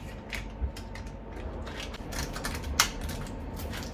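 A knife slowly slices onion on a cutting board for Sri Lankan seeni sambal, making a series of close, crisp taps and crunches at an unhurried, uneven pace, with no speech.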